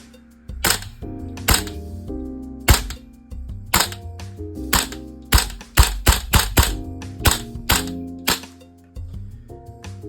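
A VFC HK416C airsoft rifle fires a rapid string of sharp, loud shots, about fifteen cracking reports in quick bursts with brief gaps between them, with no talking.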